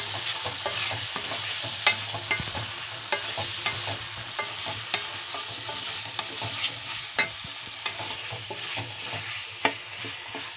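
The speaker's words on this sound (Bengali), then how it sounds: "আলুটা মশলার সঙ্গে একটু ফ্রাই করে নেব।" Cut potatoes frying with spices in a pan for a potato and capsicum dish, a steady sizzle broken by frequent scraping and clinking stirs, close and continuous with no talk.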